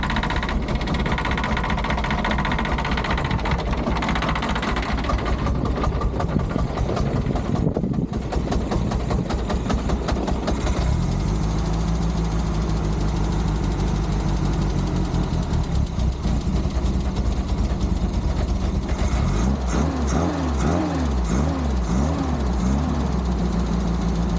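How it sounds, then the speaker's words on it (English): A Renault R8 engine runs unevenly nearby, a loud continuous rumble that shifts and pulses, chugging roughly rather than idling smoothly. "It's literally chugging on like a steam engine."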